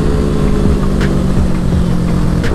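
Kawasaki Ninja motorcycle engine, a Versys or Ninja 1000 with a wide rear tyre, droning steadily and loudly throughout with a constant low hum and rising and falling revs, heard up close on a group ride.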